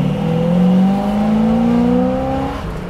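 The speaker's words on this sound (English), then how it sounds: "It's got that just right idle" A big truck's engine, fitted with new heads and a cam, drones steadily nearby, its pitch rising slowly and slightly, a deep rumbling idle with no talk over it.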